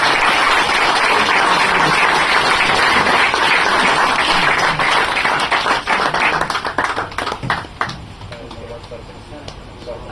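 An audience gives a loud, sustained round of applause for a guest presenting a gift at a mobile repairing institute event, then the clapping thins out and fades, with some voices heard underneath.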